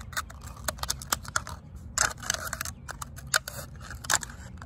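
Scissors snip through a thin plastic cup in a run of crisp, crackling cuts down its side, close up and irregular in rhythm, with short pauses between snips.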